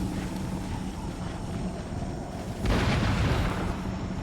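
A musket volley in Total War: Empire, a French line battle in a tournament match: steady battlefield rumble with scattered shots, then a louder broadband burst of massed fire near the end, no talk.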